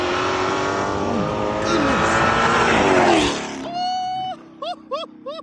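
A rear-wheel-drive Honda car accelerates hard, its loud engine note climbing steadily in pitch for several seconds before cutting off abruptly, followed by a few short, sharp chirping tones.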